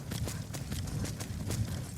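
Horse hooves clip-clop on the ground in the video game Skyrim, a quick irregular series of soft thuds under a hum of ambient noise, fairly faint and close.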